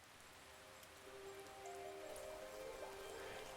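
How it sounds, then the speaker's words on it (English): Steady rain falling at last after a long dry summer in a garden where pigeons feed, a soft continuous patter with a faint tonal hum underneath and no voices. "Rain at last."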